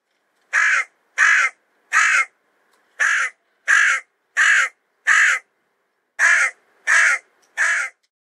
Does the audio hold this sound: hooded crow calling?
yes